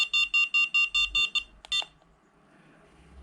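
Repeated electronic beep tones from an Aircotec Alib flight instrument, about eight evenly spaced loud beeps, then two more after a short gap, then quiet room tone.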